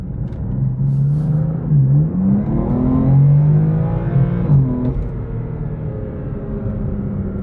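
A BMW M4 CS on Toyo R888R tires accelerates hard, its engine note climbing steadily in pitch with a shift dip partway through, loud and continuous from start to finish.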